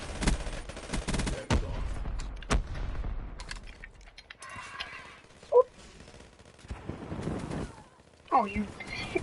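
Bursts of gunfire in a video game ring out in quick volleys amid busy game noise, with a couple of sharp peaks standing out and voices talking over the action.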